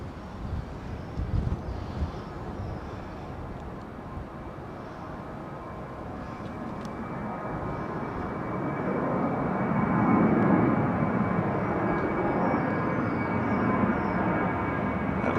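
An airliner departs Heathrow runway 09R as a steady broadband jet roar swells toward the middle and holds loud to the end, with no one speaking.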